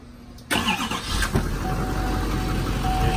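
A Chevy 2500HD pickup truck engine cranks and catches, then settles into a steady, close idle rumble.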